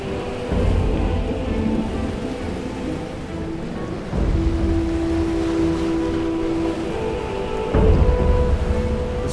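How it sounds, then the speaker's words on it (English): Heavy rain pours at sea during a thunderstorm in an animated brick-built Bible story of Jonah, a constant roaring wash broken by deep thunder rumbles and cracks at intervals. "The storm is getting worse."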